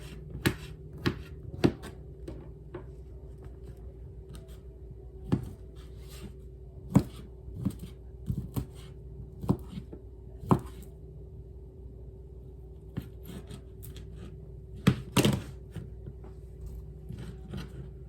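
A knife slicing a vegetable into half-moon pieces on a cutting board for a Portuguese stew: scattered, fairly faint wooden taps at uneven intervals over a steady low hum.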